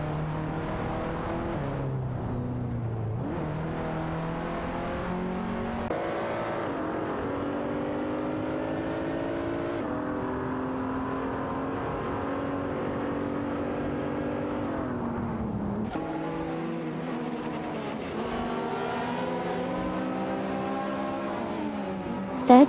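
Race car engines in a racing video game hum and rise steadily as the cars drive on, with repeated upshifts in pitch and a continuous drone and no voices.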